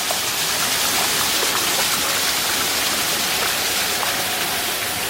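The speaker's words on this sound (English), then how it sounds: "Nice little water feature." Water splashes and flows steadily from a small water feature in the Brisbane Botanic Gardens, a continuous close, bright rushing sound with no voices over it.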